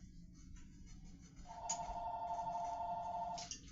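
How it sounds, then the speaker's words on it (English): A home telephone rings in a kitchen, one steady electronic trill lasting about two seconds that sits clearly above a low background hum, with no one talking. "You can't even get a minute without the phone ringing."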